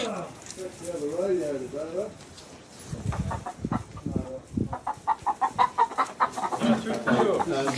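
Chickens cluck and chatter in quick bursts close by, while a person speaks over them early on.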